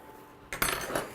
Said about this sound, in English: You want to stir them, make sure they don't stick.